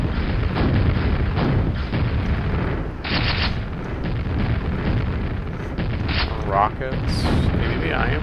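Rocket explosions in the Quake shooter on a Func Map Jam 2 map, a dense run of loud booms and blasts filling the clip, with a louder burst near the end and a voice speaking over the gunfire.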